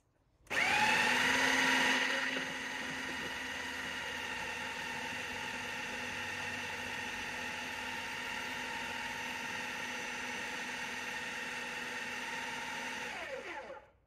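An electric mixer whirs steadily for about thirteen seconds while mixing cake batter, loudest at the start and then settling into an even, close mechanical hum before stopping.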